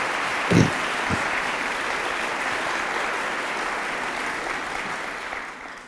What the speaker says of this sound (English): When I walked in and all of you started clapping